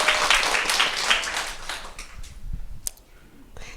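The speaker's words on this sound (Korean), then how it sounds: "자신에게 응원의 박수 한번" An audience at a live business seminar claps for themselves, a dense patter of many hands that is loud at first, then thins out and fades over a few seconds.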